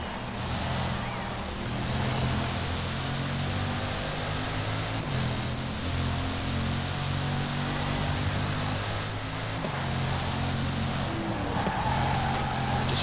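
A racing car in Forza Horizon 4 drives at speed through corners, its engine a loud continuous drone with shifting pitch and steady wind-like rush from start to finish.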